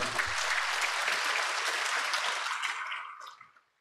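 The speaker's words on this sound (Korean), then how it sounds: "큰 박수로 맞아주시기 바랍니다" A crowd at a Korean organizational development presentation gives a warm round of applause as a presenter is welcomed, a full, steady clatter of many hands that holds for about three seconds before trailing off.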